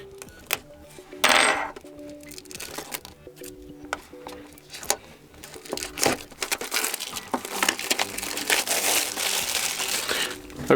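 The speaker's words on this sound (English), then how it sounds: "So at first I'm going to remove this foil." Plastic foil peeled and crinkled off the box of a Xiaomi BeBird smart ear-cleaning rod, close-up, with irregular rustling, crackling and sharp snaps that grow denser and steadier toward the end, no speech.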